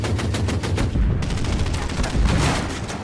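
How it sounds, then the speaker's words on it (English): Gunfire from units attacking a Bofors cannon in the Order of Battle strategy game, a loud rapid run of repeated shots and blasts with dense crackle, continuous for about three seconds. "So let's open fire on the Bofors cannon."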